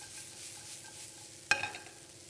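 Walnuts and raisins are stirred through cooked spinach in a pan, with a soft, steady sizzle that is broken by one sharp scrape or clatter near the end.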